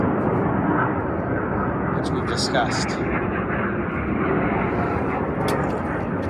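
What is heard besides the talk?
military jet flying overhead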